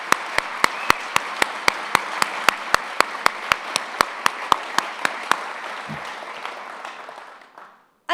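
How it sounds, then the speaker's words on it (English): Sustained applause from a crowd at a Wisconsin football press conference introducing a new coach, a dense even wash of clapping with sharp periodic clicks, fading out toward the end before a brief voice. "let's give him a big round of applause"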